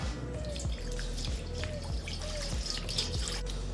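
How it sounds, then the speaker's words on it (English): Distilled water poured into a small cooker pan for dyeing arrow feathers, a close, steady trickling splash with a repeated rhythmic gurgle under a faint low hum. "Next, you just add your distilled water."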